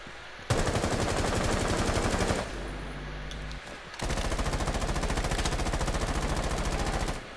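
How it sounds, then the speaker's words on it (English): Automatic gunfire in the tactical shooter Rainbow Six, heard as two long, loud bursts of rapid rattling shots close by, separated by a brief quieter gap with no talking. "They're actually shooting very close to me."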